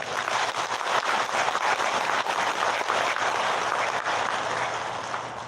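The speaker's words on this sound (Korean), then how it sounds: "큰 박수 한번 쳐주시기 바랍니다" An audience at a senior employment program rally applauds, a steady wash of many hands clapping from a crowd that holds evenly and tapers slightly at the end.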